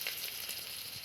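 Mustard seeds, fenugreek powder and dried red chillies fry in hot oil with a continuous hissing sizzle and faint crackles, soft and steady throughout.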